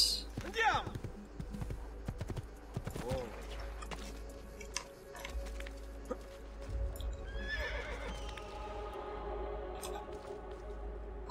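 In Assassin's Creed II, a horse whinnies with a rising and falling neigh, followed by clip-clopping hooves and a later second whinny, all fairly faint against a low background hum.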